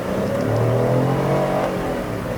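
A Proton X70 1.5 TGDi SUV revs hard climbing the road to Genting in Malaysia, heard from inside the cabin as a loud engine note rising in pitch, then dropping briefly as the gearbox upshifts.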